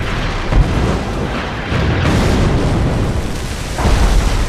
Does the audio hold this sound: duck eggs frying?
no